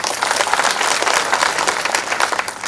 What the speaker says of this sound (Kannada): ಜೋರಾಗಿ ಚಪ್ಪಾಳೆ ಮುಖಾಂತರ ಧನ್ಯವಾದ ತಿಳಿಸಬೇಕಾಗುತ್ತೆ